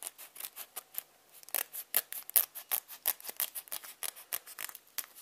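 Jumbo Carddass Evangelion card's protective paper wrapper carefully cut open with scissors, a close series of crisp snipping and rustling strokes in an uneven rhythm, quiet and alone without talk.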